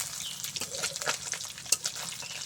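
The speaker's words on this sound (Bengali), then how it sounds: "উল্টানি হয়ে গেছে, একটু করে ভাজা হয়ে যাবে, লাল লাল হয়ে ভাজা হয়ে যাবে।" Thin, flat chital fish fillets frying in a pan, a close crackling sizzle of bursting oil with sharp pops, uneven and continuous, no talking.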